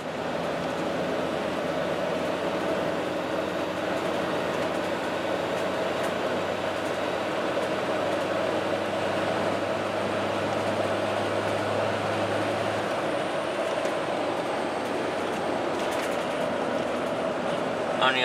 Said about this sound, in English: So we've got the windows closed now, and I'm accelerating hard in 5th gear.